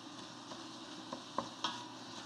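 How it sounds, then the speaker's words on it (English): Ground beef sizzles in a lightly oiled pan on an induction cooktop, a soft continuous frying hiss with a few quiet ticks and scrapes from stirring, faint and close with no talking. "So we've got our ground beef going in here."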